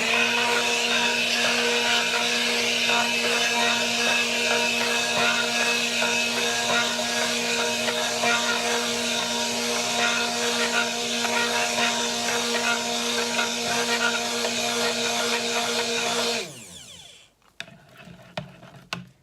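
A stick blender whirs steadily through cactus cold process soap batter, a loud continuous motorized hum that stops abruptly near the end, followed by a few faint clatters.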